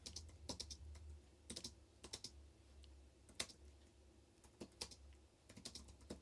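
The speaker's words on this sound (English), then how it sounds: "you didn't know I was typing that to her" Typing on a computer keyboard, with quick bursts of clicking keystrokes and short pauses between them, close and fairly quiet, with no voices.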